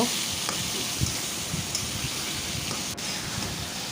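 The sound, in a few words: meat being stir-fried in spice masala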